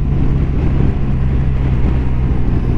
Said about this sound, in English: Loads the engine braking on the big GS. Not touching the brakes at all.